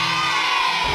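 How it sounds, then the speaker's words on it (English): A class of children cheers and shouts together, a dense, loud burst of young voices lasting about a second. "All the class cheered."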